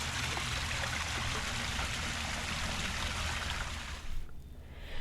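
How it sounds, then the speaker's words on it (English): Small decorative fountain at a riverside RV campground pond trickles water steadily, a continuous close splashing hiss that fades out near the end. "That's a pretty little fountain they made."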